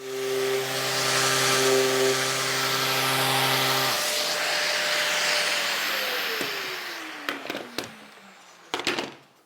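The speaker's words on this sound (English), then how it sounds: "I'm going to smooth this top bit out with the sander" A power sander whines and hisses while smoothing the top of a wooden tray. It is loud and steady for about four seconds, then winds down with a falling tone and ends with a few clunks.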